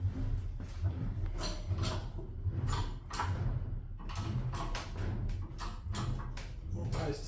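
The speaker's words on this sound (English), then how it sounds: "I'm just going to put a bit of pressing force on the top of the axle here." A press forces the rear axle of a 2005–2015 Toyota Hilux Vigo out of its housing during a bearing replacement, giving strained mechanical creaks and scraping bursts over a steady low workshop hum.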